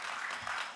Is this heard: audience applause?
yes